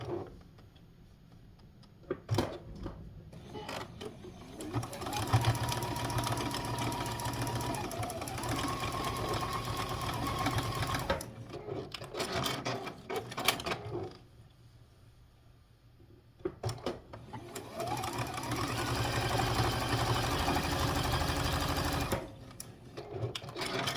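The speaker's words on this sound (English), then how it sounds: "I'm going to just sew a straight stitch on either" A sewing machine stitches trim onto a quilt ornament in fast, rhythmic whirring bursts, running for several seconds at a time, with short quiet pauses and handling clicks between runs.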